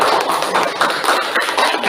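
A class of madrasah students applauds a student group during a lesson, giving dense, steady clapping for about two seconds with voices mixed in.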